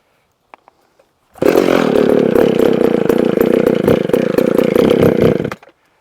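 A chainsaw fired up for cutting timber beside a sawmill shed, a couple of faint clicks first, then a loud, close, sustained buzzing roar that runs steadily for about four seconds before cutting off abruptly.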